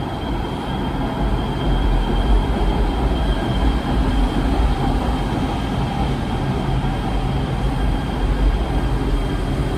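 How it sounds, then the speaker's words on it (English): An LA Metro Rail train pulls into a station at night, a loud steady rumble of wheels and carriages with faint high squeal tones, sustained throughout and without talk. "Yeah, looks like a train's coming."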